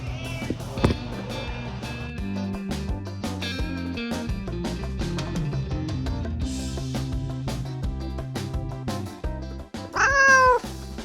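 A cat meows over a busy music track, its calls mixed into the music, with a louder, clearer meow rising near the end.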